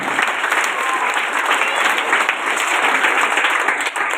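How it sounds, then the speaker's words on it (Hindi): Audience applause as children step up to receive prizes and gifts at an event for poor children; dense, steady clapping from a sizeable crowd fills the whole stretch at an even, sustained level. "तालियां बजा दीजिए आप सब"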